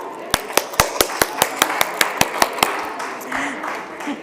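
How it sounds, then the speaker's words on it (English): Audience applause at a business forum session honoring participants: about a dozen sharp, evenly spaced claps ring out loudly, then trail off into a murmuring room. "a huge round of applause for all the participants who shared their experience with us"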